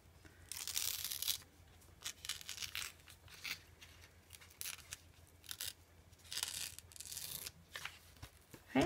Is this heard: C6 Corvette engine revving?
no